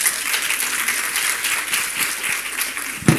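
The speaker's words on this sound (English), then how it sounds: "I think that deserves a round of applause." Audience applause at a women's economic assembly addressed by the South African president, steady dense clapping filling the room for a few seconds, with a sharper clap burst near the end.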